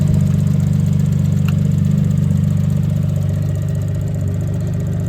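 Suzuki Cappuccino engine idling steadily after a repair, a loud, close, even mechanical hum with a constant low throb and no speech throughout.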